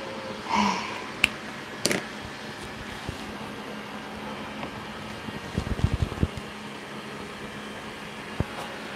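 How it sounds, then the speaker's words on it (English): A robot vacuum cleaner runs in a room indoors, giving a steady broad whirring noise broken by scattered clicks and knocks, with a cluster of bumps in the middle. "It's super loud right now because the robot vacuum just came in here again."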